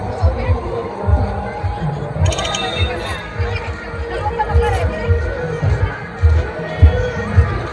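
Crowd at a temple during the Nag Panchami festival in India: a steady hubbub of many voices, close and moderately loud, with babble and occasional thumps throughout.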